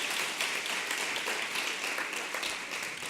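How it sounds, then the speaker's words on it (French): Audience applause at an evening literary and food event in France, a steady dense wash of clapping throughout with no voices. "Je vous demande de les applaudir."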